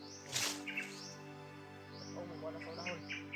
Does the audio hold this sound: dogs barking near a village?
no